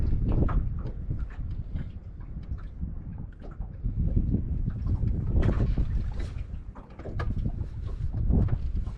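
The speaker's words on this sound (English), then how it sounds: "You see, this wind is just ridiculous." Strong wind gusting across a lake while fishing for crappie from a boat, a loud continuous roar and buffeting of the microphone with irregular surges throughout, no talking.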